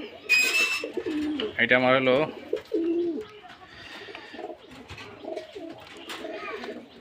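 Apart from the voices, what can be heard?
Rajshahi giribaz pigeons cooing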